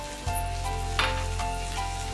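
Ingredients sizzle and fry steadily in a hot pan on a cooking show while being stirred and turned, with a few soft scrapes over a constant close hiss and no talking.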